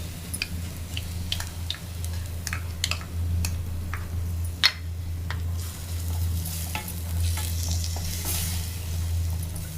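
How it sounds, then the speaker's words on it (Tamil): Onion, ginger and garlic masala with curd, for malai kofta gravy, sizzles in a pan while a spoon stirs and scrapes in repeated close clicks over a soft, continuous frying hiss, with no speech. "நல்லா பச்சை வாசனை போகிற அளவுக்கு நம்ம நல்லா வதக்கிக்கலாங்க"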